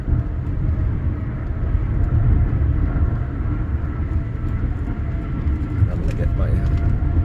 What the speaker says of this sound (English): that is the airport tunnel here at Las Vegas International Airport